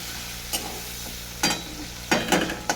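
Chopped green chili fries in hot oil for a fish curry, a low steady sizzle broken by several sharp crackling bursts and stirring scrapes, close and without talk.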